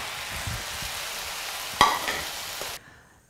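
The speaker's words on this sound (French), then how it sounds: "Puis on met l'autre face à cuire." A grated potato rösti fries on its second side in a pan, giving a steady sizzling hiss with a sharp clatter midway that cuts off abruptly near the end.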